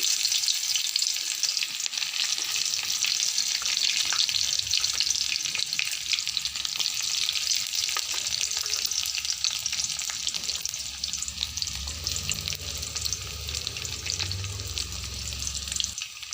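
Panch phoron spices and bay leaf frying in hot oil, a continuous close crackling sizzle at steady volume, with a low rumble building toward the end and no voices.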